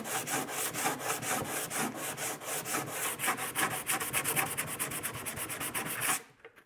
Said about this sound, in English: Gotta do a little light sanding.